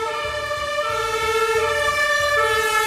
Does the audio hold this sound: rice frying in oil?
no